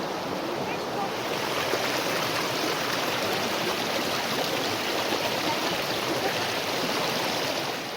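Ice-cold mountain stream water near Zakopane, Poland, rushes and gurgles in a steady, close, unbroken flow that fills the whole scene.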